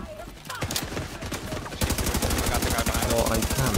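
Rapid automatic gunfire in The Division 2, loud, dense bursts of shots aimed at an enemy's back-mounted canister, the firing growing heavier and more continuous partway through, with game sounds around it.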